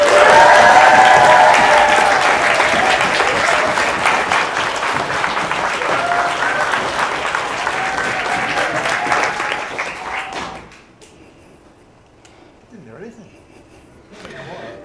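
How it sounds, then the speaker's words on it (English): School audience in a hall clapping, cheering and stamping feet on cue, a loud sustained burst of applause and crowd noise that cuts off sharply, leaving quieter room sound with scattered voices. "You can stamp your feet, clap your hands, cheer or whatever"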